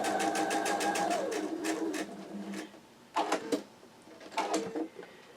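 A sewing machine stitches quilt block fabric in rapid mechanical bursts, a long run of needle strokes followed by two short stitching spurts with pauses between.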